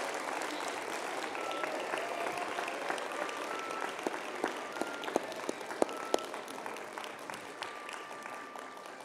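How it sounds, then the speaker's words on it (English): An audience at the Raleigh Christian Academy 2021 homecoming applauds the homecoming representatives, with steady, dense clapping throughout and a few sharper individual claps standing out. "Let's give one more round of applause for this year's 2021 homecoming representatives."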